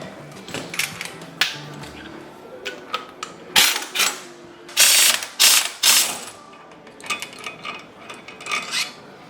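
A ratchet undoes bolts on a trail bike, giving rapid clicking pawl bursts in uneven spurts with short pauses between, close and fairly loud.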